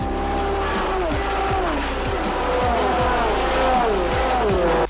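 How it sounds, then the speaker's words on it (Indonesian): Le Mans race cars roar around the Le Mans circuit, their loud engines rising through gears with sharp downshift drops, a continuous near, dense wall of racing noise with occasional tire squeal. "mobil balap Le Mans."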